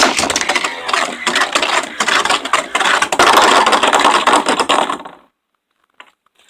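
A Super Hyperion Beyblade spins in a plastic stadium with a loud, close, gritty whirring and scraping rattle for about five seconds, then cuts out abruptly, leaving near silence with one faint tick.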